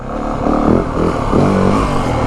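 Yamaha WR 450F four-stroke dirt bike engine revving up and down in a few uneven surges, close and loud, with some mechanical clatter and no talk.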